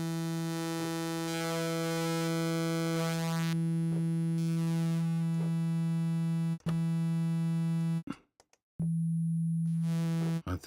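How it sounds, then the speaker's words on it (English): A sustained synthesizer drone with rich buzzing harmonics, its timbre shifting as phase distortion reshapes the oscillator waveform, cutting out briefly twice before resuming. "phase distortion or wave shaping"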